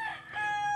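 A gamefowl rooster lets out a single short, fairly faint crow, heard alone.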